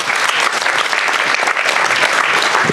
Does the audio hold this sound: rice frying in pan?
no